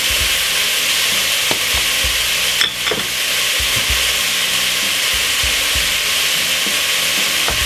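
King prawns sizzle loudly in a hot pan, a dense constant frying hiss with a few clacks and scrapes as they are stirred, close and steady with no talking.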